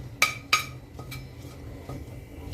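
Whole spices — dried red chili, cinnamon pieces, green cardamom and cloves — stirred in hot oil in a pan, with a few sharp metal spoon clinks against the pan over a faint low sizzle.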